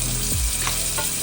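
Minced garlic fries in olive oil over medium-low heat, giving a dense, steady close-up sizzle with a quick clack of a utensil near the start, no voices.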